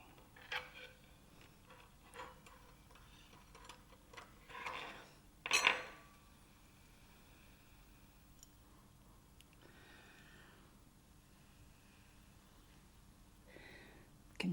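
Knife and fork picked up and handled by an adult being assessed on cutlery use, giving several light clinks and taps spread over a quiet room, with one louder clatter near the middle and faint handling noise between.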